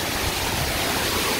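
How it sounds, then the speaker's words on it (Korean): Miin waterfall in a Samcheok gorge, water dropping from about 50 m, gives a loud, steady, close rushing roar with no break. "여기 미인폭포에 한번 살짝 들어가 보도록 하겠습니다."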